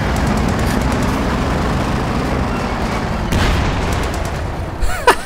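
Heavy cannon fire from a Sherman tank in the Company of Heroes 2 strategy game, booming within a dense, continuous rumble of battle noise, with a harder blast partway through and sharp cracks near the end.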